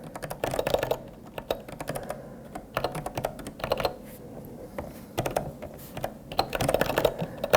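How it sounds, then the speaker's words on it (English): Rapid typing on a Kinesis computer keyboard comes in bursts of dense key clicks separated by short pauses, close and clear, with no talking. "using someone else's keyboard here."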